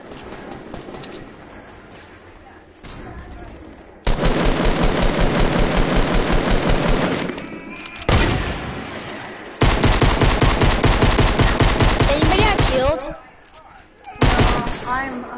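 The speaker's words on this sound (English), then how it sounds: "Dang, there's gunshots everywhere." Loud bursts of automatic gunfire rattle in rapid, sustained volleys in an online shooter game, broken by short pauses and single shots, with heavy firing close by.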